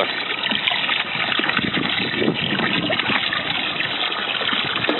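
Water pumped into a cooler full of stirred leaves pours and splashes steadily, a continuous close rushing flow with a faint motor hum beneath it.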